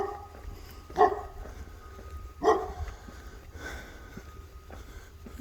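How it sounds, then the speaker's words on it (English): A dog barks twice outdoors on an afternoon hike, two sharp, fairly distant yelps about a second and a half apart, followed by a softer huff, over steady wind and background hiss. "Could be somebody's dog."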